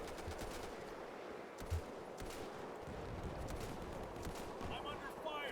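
Dense gunfire and machine-gun bursts from the World War II shooter game Easy Red 2 run continuously as a steady, crackling wall of combat noise, with one sharper nearby shot, while a voice talks over it.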